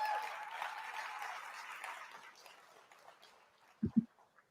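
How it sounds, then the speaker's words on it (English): Audience applause at a live company event, fairly faint and diffuse, fading out over several seconds before a couple of brief low thumps. "that deserves a round of applause"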